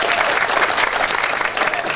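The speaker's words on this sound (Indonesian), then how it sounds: "Tepuk tangan untuk kita semua." Loud, continuous applause from an audience gathered at a tree-planting event with a mayor, dense clapping close by for two seconds without pause.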